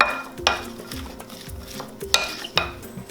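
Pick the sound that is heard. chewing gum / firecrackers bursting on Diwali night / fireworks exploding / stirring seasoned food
stirring seasoned food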